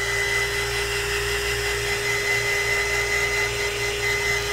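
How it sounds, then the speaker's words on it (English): A heat gun blows steadily while drying Elmer's glue for a crackle craft technique, giving a constant close, loud whir with a high whine and no pauses. "So I'll take my heat gun and I'll dry this a little bit to speed this up."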